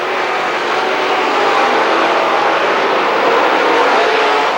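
Late model race cars roar around the oval at Lernerville Speedway, a loud, steady engine drone that stays dense and unbroken throughout with no voices.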